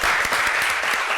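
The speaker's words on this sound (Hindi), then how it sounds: "खुद के लिए ताली बजाओ एक बार" Students in a law lecture class clap for themselves, a dense burst of many hands applauding together, steady and loud for a little over a second.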